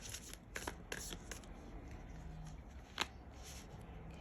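Tarot cards are shuffled by hand close up, a quiet run of soft riffling flicks and slaps with a sharper snap near the end.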